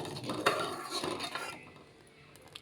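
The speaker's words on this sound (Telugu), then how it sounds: "అలాగే ఉండలు కట్టుకోకుండా కలుపుతూ ఉండాలి" A thick mixture stirred over low heat in a heavy pot, with utensil scrapes and light clinks against the metal, close and fairly quiet, fading after about a second and a half.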